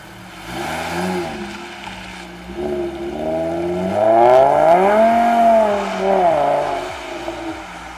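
A car engine revs and surges through second gear, its pitch climbing and falling in long sweeps, close and fairly loud with no talking.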